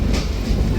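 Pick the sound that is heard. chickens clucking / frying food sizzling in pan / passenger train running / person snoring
passenger train running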